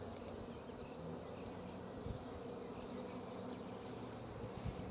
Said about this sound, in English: I'll try to get the bees off of them, but there they are.